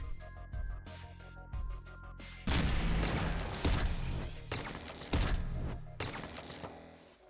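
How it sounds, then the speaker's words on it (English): Laser cannon fire in the X-Com Files game comes as a loud blast followed by several sharp, booming discharges with rumbling decays, spaced irregularly over quieter thuds. "Laser cannon."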